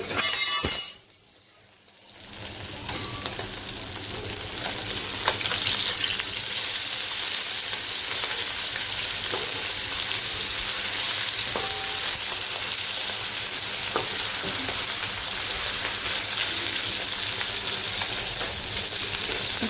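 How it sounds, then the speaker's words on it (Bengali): Loud crackling sizzle of fish frying in oil in a wok, starting after a brief bump and quiet moment, then continuing steadily with occasional pops and clinks. "মাছ ভাজা করছি"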